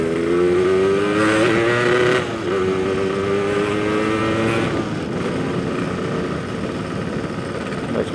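A Yamaha RX King two-stroke motorcycle engine under restoration revs loudly and steadily nearby, with a rough, uneven sputter that shows it is running poorly in first and second gear.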